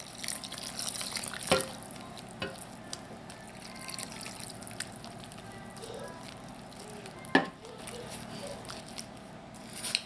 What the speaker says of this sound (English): Now add in enough lukewarm water to bring this together to form a soft dough.